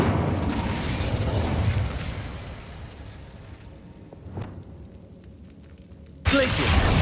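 Incendio fire spell blast in Hogwarts Legacy: a roaring, crackling burst that fades over a few seconds, a sharp pop partway through, and then a sudden loud eruption of noise near the end.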